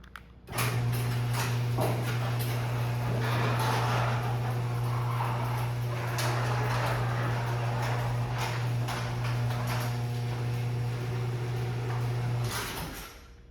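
A 1980s or 1990s Chamberlain 450-9 garage door opener lowers a 16x7 door, its motor holding a steady loud hum for about twelve seconds while the door rattles and clatters, then the hum stops.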